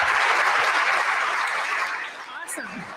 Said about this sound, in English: was that a clap?